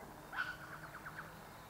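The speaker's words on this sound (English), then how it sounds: "That's a red wattlebird making that noise in the background." A red wattlebird calls from the background, a faint, distant harsh note followed by a quick series of softer clucking syllables in an otherwise quiet outdoor setting.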